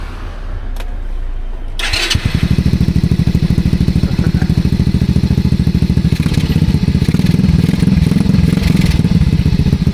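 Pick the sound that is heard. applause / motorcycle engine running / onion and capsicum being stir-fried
motorcycle engine running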